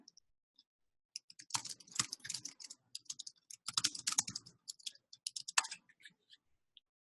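Fingers tap on a computer keyboard in irregular bursts of quick clicky keystrokes, close and clear with brief pauses between runs, while a chat client is in use.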